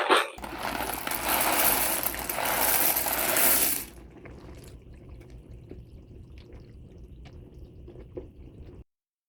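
Dry pasta poured into a pot of beef and sauce for homemade one-pot beefaroni, a loud dense rattling rush for about four seconds, then quiet bubbling and scattered small clicks and taps.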